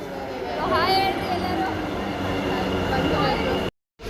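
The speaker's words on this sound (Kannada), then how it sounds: "ಮೆಟ್ರೋ ಒಳಗಡೆ ಇದ್ದೀವಿ ಫೈನಲಿ. ಇಷ್ಟು ಫುಲ್ ರಶ್ ಇದೆ." Rumbling interior of a crowded metro train in motion, with steady rail noise, a faint rising whine and passenger chatter throughout, cutting briefly to silence near the end.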